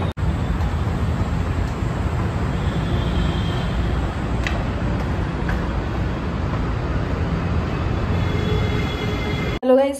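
Inside a Delhi Metro train on the move, a steady, dense rumble of wheels and carriage noise fills the whole stretch, with faint squeaks and clicks on top and no talking.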